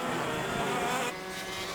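KZ2 250 shifter karts race at Shenington, a high buzzing two-stroke engine note roaring past and then dropping in pitch, fairly faint and distant.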